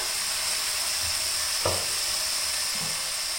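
Seasoned food, just sprinkled with salt and pepper, sizzles steadily in a hot pan for a Creole-style stuffed turkey, with a brief scraping stir partway through and no talk.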